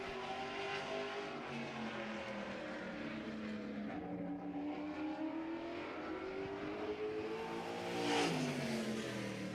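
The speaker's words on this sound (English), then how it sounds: "Driving out of Edgerton, car number 55, Paul Johnson Jr." Race car number 55 pulling out onto the track at a Jefferson season opener, its engine revving and climbing in pitch with shifting harmonics, heard from a distance and fairly faint, swelling briefly near the end.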